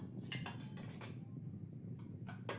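Metal spoons clink against dishes as they are set on a lunch table at home, making a scatter of sharp, fairly quiet clinks in small clusters with pauses between them.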